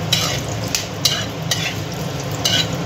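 Whole garam masala spices frying in hot oil with tempering spices, a loud, close, crackling sizzle with rhythmic scraping strokes of a spoon stirring the pan.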